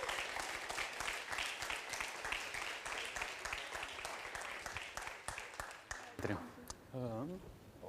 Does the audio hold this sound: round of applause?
yes